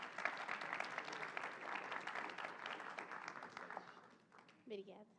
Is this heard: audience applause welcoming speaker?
yes